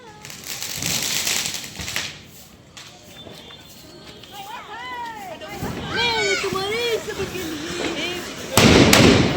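Diwali firecrackers and rockets bursting in a residential street, with sharp cracks and loud bangs at the start and end, whistling, crackling rocket streaks rising through the middle, and people talking and calling out over the din.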